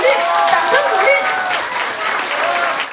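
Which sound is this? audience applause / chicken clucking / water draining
audience applause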